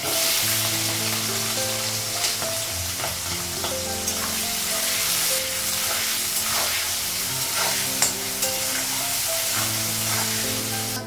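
Whole cumin, nigella seeds, green cardamom, and fresh and dried chillies fry in hot oil with a steady, close crackling sizzle, broken by stirring scrapes and background tones.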